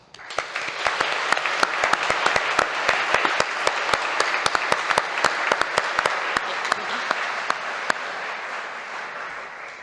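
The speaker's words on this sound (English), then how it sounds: "a massive round of applause" A large audience at a university volunteer awards ceremony in Manchester applauds a student group award, with dense, steady clapping and sharp individual claps standing out across the whole stretch.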